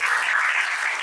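A church congregation applauds and cheers for Jesus Christ, a dense, steady burst of clapping filling the short moment.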